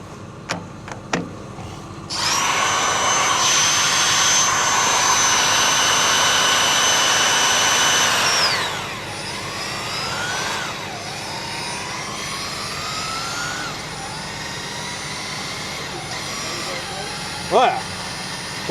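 A rattle gun (impact wrench) runs close and loud in a sustained high whine for several seconds, then winds down with falling pitch and trailing mechanical sounds.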